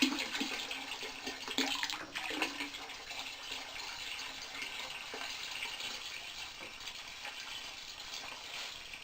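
Water poured steadily into a container hung as the load for a rope strength test, a faint continuous trickle and splash with a few small knocks near the start.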